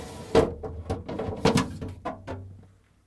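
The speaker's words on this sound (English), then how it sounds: "Pull the lower drawer out." Plastic lower drawer of a Whirlpool refrigerator pulled out, a series of close knocks, clunks and sliding rattles over about three seconds, fading at the end, with no voices.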